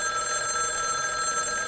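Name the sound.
telephone ringing in the film Doubt (2008)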